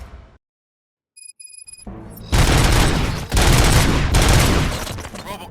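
After a near-silent start and a brief tone, loud sustained gunfire erupts, with heavy bursts rattling on for several seconds.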